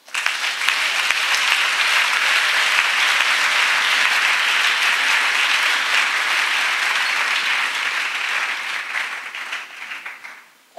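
Loud, sustained applause and acclamation from a crowd at a religious retreat gathering, swelling quickly, holding steady for several seconds, then fading out near the end.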